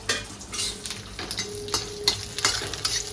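Dried coconut roasts in oil in a pan for a Khandeshi-style mutton dish, giving a steady close sizzle broken by repeated scraping stirs and light metal clinks from the utensil.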